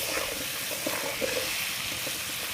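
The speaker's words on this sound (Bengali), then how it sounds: "আলুগুলোকে লাল লাল করে ভেজে নেব।" Potatoes fry in a pan with a little turmeric and salt, giving a steady, close sizzle with soft crackles throughout and no talking.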